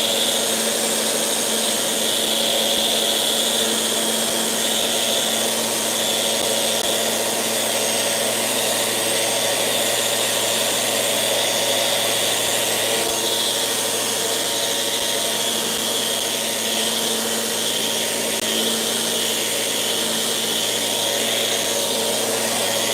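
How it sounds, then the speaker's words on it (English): A power sander works a piece of oak in a woodworking shop, giving a steady, loud motor whine and abrasive hiss that holds for over twenty seconds with no talking. "So we're going to go ahead and sand this now."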